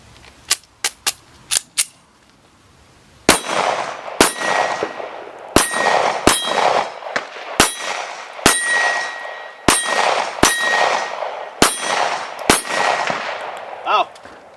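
A Springfield XDM 5.25 longslide 9mm pistol fires at steel targets: a few sharp distant shots, then a loud close string of about a dozen gunshots, each followed by a ringing metallic clang from the struck steel.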